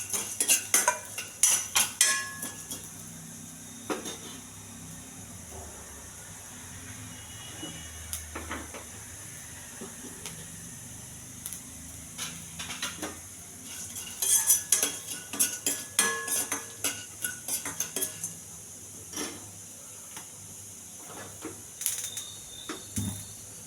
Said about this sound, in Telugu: ఇవన్నీ కొంచెం దోరగా ఎగర్చాలి